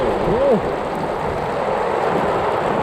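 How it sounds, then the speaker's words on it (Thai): Steady, dense rain pours continuously at Phu Chi Fa, Chiang Rai, in the rainy season, a broad hiss close by with a brief vocal exclamation near the start. "ฝนตกหนักมาก"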